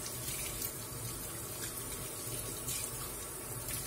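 Tap water runs steadily into a sink with a constant splashing hiss, close by, as salted fish is rinsed under the stream.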